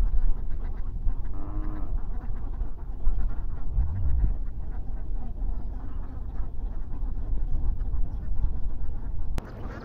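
Many ducks quack together in a steady, dense chorus, with soft murmuring voices and outdoor rumble underneath.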